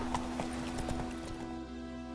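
Horse hooves clip-clopping at a steady trotting rhythm as a rider urges the mount on in The Witcher 3, close and clear over a low humming ambient tone, with no talking.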